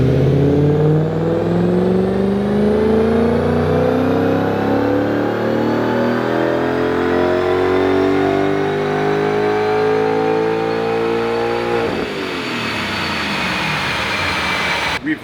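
An Audi S4 engine revs hard on a Dynojet chassis dyno, a loud continuous roar whose pitch climbs steadily toward about 7,000 rpm before dropping sharply as the throttle closes near the end.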